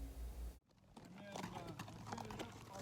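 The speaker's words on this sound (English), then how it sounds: "Just on a nice little horse ride." Horse hooves clip-clop at a steady walking pace during a desert trail ride in Arizona, with someone talking over them close to the microphone.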